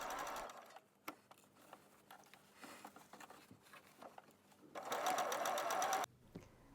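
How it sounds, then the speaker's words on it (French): Sewing machine stitching fabric 1 cm from the edge, a steady mechanical whirr in short bursts with pauses between runs, loudest in a sustained final run. "Piquez ensuite à 1 cm du bord."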